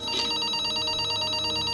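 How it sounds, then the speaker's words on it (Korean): A telephone rings as a sound effect in a Korean crime-mystery TV program, a loud bright electronic trill that repeats rapidly and evenly throughout, alone without talk. "그때 수사팀에 전화가 한 통이 걸려와요."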